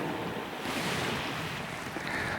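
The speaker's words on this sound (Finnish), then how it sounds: "Meri tuossa aaltoilee kivasti ja täällä on ihan lämmin olla." Arctic Ocean waves washing the shore at Bugøynes in Norway, a steady, fairly loud surf rush with wind noise on the microphone and no talking.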